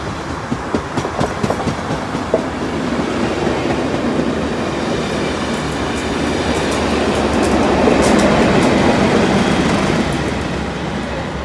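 Train led by locomotive 9703 rolls through St Mary's South Junction, rhythmic wheel clicks over rail joints at first, then a loud continuous rumble of wagons passing close by that swells and eases slightly.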